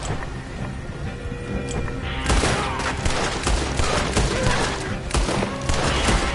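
Red Dead Redemption 2 gunfight: a quieter stretch gives way to a rapid barrage of overlapping gunshots and crackling volleys, loud and sustained, with scattered sharp reports continuing to the end.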